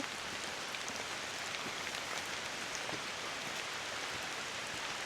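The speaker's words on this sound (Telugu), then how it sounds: "ఎందుకంటే ఆ వర్షానికి ఆ సౌండ్ ఒకసారి వినండి" Steady, dense rain patters continuously on forest trees and surfaces near Yudanaka, Japan, a soft even hiss with occasional louder drops, no voices.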